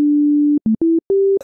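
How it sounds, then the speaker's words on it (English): A pure sine tone from the Phase Plant synthesizer plays as one long steady note, then three shorter notes that step up in pitch, each with a soft click at its start, clean and loud. "the sine wave, which is the purest of sound waves"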